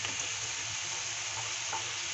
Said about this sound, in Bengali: আলু মশলার সঙ্গে ফ্রাই করার পর এখন আমি দিয়ে দিচ্ছি কেটে রাখা ক্যাপসিকাম